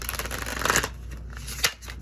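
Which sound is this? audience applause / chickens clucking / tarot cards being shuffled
tarot cards being shuffled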